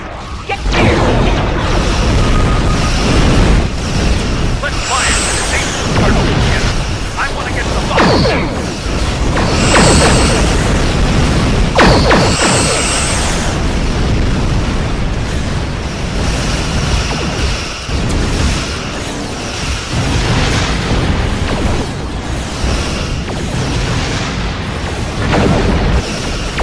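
Starship weapons fire and explosions in the video game Star Trek Online roar continuously and loudly, with repeated booming blasts and whooshing shots layered over a dense battle din, with no voices.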